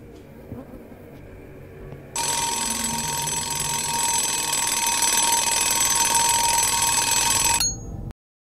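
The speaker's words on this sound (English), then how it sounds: "Is that, like, our sleep paralysis alarm waking us up?" A loud, continuous electronic alarm rings in a horror video game, starting abruptly after some quieter sounds and holding steady for about five seconds before cutting off sharply.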